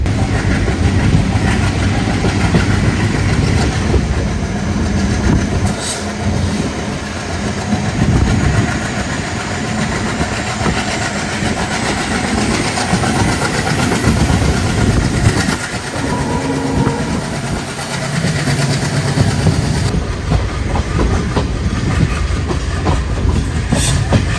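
A MEMU train runs along the rails into Sasthamkotta station, a loud continuous rumble with rhythmic clickety-clack and engine drone that carries on for the whole stretch.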